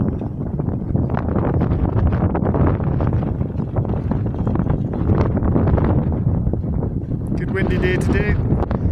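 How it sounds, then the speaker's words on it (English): Strong, gusty wind over an open field of planted trees buffets the microphone continuously, a loud roaring rush with rustling, and a brief whistling tone near the end. "Windy day today."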